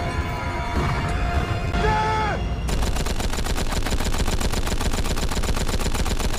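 A film battle scene in which charging fighters face armed defenders, with shouting and chaotic noise giving way to a loud, sustained, rapid burst of machine-gun fire.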